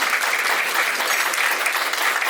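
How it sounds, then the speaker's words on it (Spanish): Steady, dense applause from a large audience at a lecture, sustained evenly throughout with no voices standing out. "un gran aplauso"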